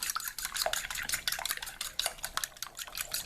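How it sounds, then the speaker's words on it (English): A fork whisks and clinks rapidly against a dish while mixing ingredients, a busy, steady clatter of close metal scraping and tapping with no talk. "I am just going to use a fork and just to, you know,"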